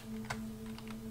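Keys on a computer keyboard are pressed while the layout is switched to QWERTY to play the horror game FingerBones: a few scattered, faint clicks over a steady electrical hum, with no talking.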